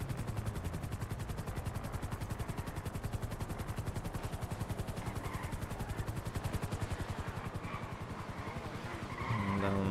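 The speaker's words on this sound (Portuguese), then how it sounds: "helicóptero da polícia marcando." A police helicopter in the video game GTA RP makes a steady, rapid rotor chop. The beat runs evenly throughout at moderate loudness, and another engine-like sound swells near the end.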